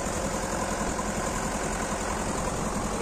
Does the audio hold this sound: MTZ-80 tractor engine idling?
yes